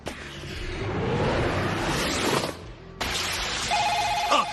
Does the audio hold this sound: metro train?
no